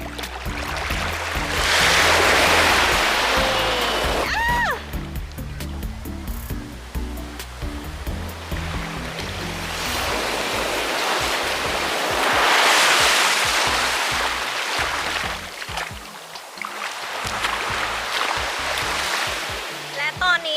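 Sea waves wash onto a clear-water beach in Phuket, Thailand, in long, rushing swells that rise and fade, with a person speaking now and then over the surf.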